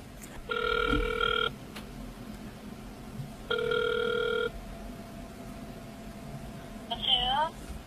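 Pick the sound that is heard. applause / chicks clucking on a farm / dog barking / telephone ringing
telephone ringing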